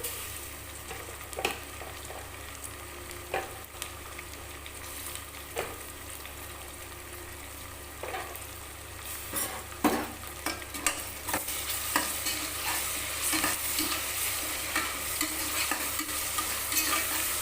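Tomatoes sauté in a pan for chicken samba rava dum biryani, giving a steady close sizzle broken by intermittent scraping stirs that grow busier and louder toward the end.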